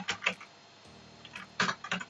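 Brief bursts of key clicks on a computer keyboard while entering text in Microsoft Word, close and moderately quiet, a few quick taps separated by a short pause, no voice.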